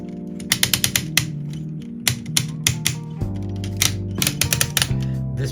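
Ratchet joints clicking on a Cang Toys Stegsarow CT Longyan 01 figure's arm, sharp close clicks in quick bursts of several, separated by short pauses with a low hum underneath.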